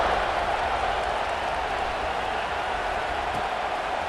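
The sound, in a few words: stadium crowd cheering after a football score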